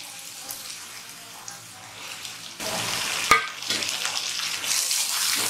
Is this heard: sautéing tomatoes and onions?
yes